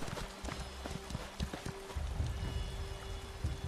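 A horse in The Elder Scrolls Online walks along behind its leader, hooves clip-clopping in a steady, fairly close rhythm at low volume over faint ambient game sound.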